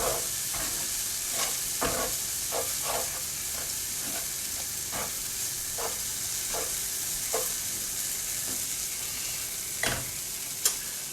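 Beef curry stir-fried in a pan: a steady sizzle runs throughout, broken by repeated scraping and clacking stirs at irregular intervals, close and moderately loud, with no talking.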